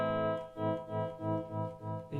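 Electric guitar chord played through a Marshall Vibratrem tremolo pedal, its volume pulsing down and back up at a steady rate, about four smooth swells per second, sustained and alone.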